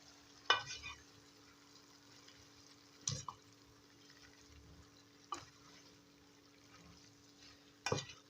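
Purslane cooks in olive oil in a pot, with a faint soft sizzle under four separate stirring strokes, each a brief scrape and clink against the pot spaced a couple of seconds apart.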